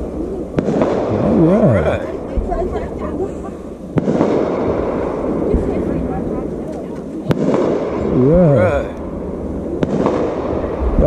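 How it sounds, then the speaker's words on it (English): Fireworks go off in the woods on New Year's celebration, a few sharp bangs spaced several seconds apart. Each bang rolls off into a distant echo, and people talk and whistle nearby. "Y'all see the fireworks in the woods?"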